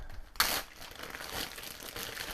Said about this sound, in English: I have just a plastic bag that I'm going to be pounding these in